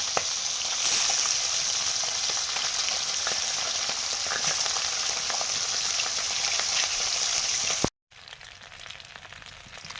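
Khoira fish fry in mustard oil over a lit clay stove, a dense, loud, crackling sizzle that runs on steadily before cutting out abruptly near the end, leaving a fainter hiss.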